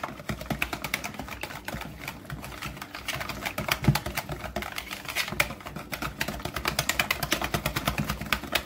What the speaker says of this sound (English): just whisk this in together, mix it up with a, a whisk instead of the mixer